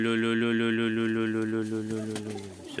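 Yeysk double-crested pigeons coo in a loud, close, sustained rolling call with a warbling pitch, and a few softer coos and rustles follow as it trails off.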